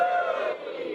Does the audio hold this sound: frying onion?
no